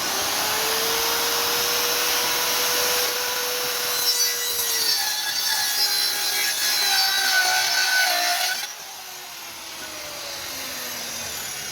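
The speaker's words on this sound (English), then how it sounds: "And cutting them up, making form pieces." A power saw cuts wood scraps into form pieces at a beach house build site in the Philippines, a loud continuous grinding whine that rises and falls, then drops to a quieter hum as the cut ends.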